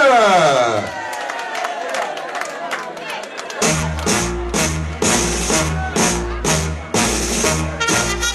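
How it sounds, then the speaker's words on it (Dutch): An audience at a playback show bursts into applause and cheering after a sung passage fades, loud clapping and crowd noise sounding over rhythmic music in a hall. "Geef ze een groot applaus."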